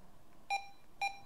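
Two short electronic key beeps from a two-way radio, evenly spaced about half a second apart, clear against a quiet background.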